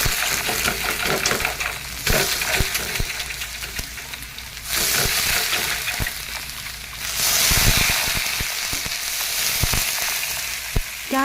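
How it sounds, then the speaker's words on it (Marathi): Thalipeeth flatbread cooks on a hot tava griddle, a loud, close, crackling sizzle that swells and eases in waves, broken by occasional taps and scrapes, with no talking. "यानंतर थापलेले थालीपीठ तव्यावरती कापडाच्या सहाय्याने टाकावे"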